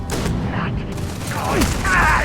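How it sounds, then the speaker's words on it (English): A small explosion in the video game Starfield, a dense broadband burst with low rumble and crackle, mixed with game effects and close-range shotgun combat sounds, loud throughout. "that was a bad little explosion"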